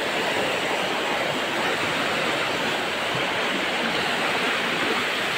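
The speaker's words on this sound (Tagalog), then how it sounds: "Kahit saan lang lumulusot yung tubig dito" Spring water flowing and seeping out of rocks at a bathing spot, a continuous rushing, splashing wash of water, close and steady with no talk.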